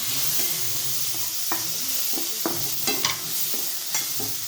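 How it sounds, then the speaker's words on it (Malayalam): Tomatoes drop into a hot, sizzling pan for flax seed chutney, a steady loud fry hiss broken by several sharp scraping stirs and clacks of a spoon against the pan, with no voices. "നമുക്ക് തക്കാളി ഇട്ട് കൊടുക്കാം."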